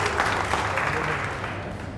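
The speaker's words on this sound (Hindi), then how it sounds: "जोरदार ताली बजाइए जर्नल्स के लिए" An audience claps loudly together at a community-led total sanitation workshop in India, a dense continuous burst of applause lasting a couple of seconds.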